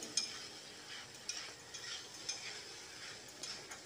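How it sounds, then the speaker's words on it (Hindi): Okra and masala fry together in a pan while being stirred. A soft, low-level sizzle runs under repeated light scraping taps of the spoon. "और मसाला और भिंडी दोनों को साथ साथ भून लेंगे 4 से 5 मिनट"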